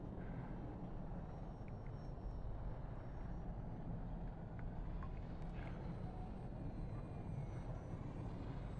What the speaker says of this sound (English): So fun to dive this plane towards you with the wing design.